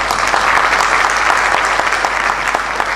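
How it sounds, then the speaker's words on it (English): Lecture audience breaks into loud, dense applause, a steady wall of many hands clapping close and continuous for a few seconds with no voices over it. "Now we can applaud"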